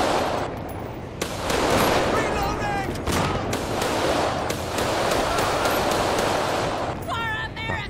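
Repeated gunfire rings out in a GTA 5 police gang-unit patrol shootout, with loud bursts of shots over dense noisy action while voices talk throughout.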